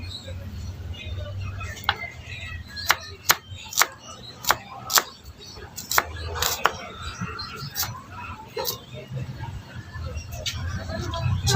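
A knife chops onion on a cutting board in a home kitchen, giving a series of sharp, separate taps at an uneven pace while a person talks over the cutting.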